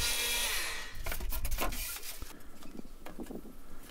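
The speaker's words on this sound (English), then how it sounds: "So the best way to cut the thick foam board is with a table saw or a circular saw." A table saw or circular saw cuts through thick 2-inch foam board in a workshop, giving a loud, continuous rough grinding and rubbing noise with rising and falling bursts, no voices.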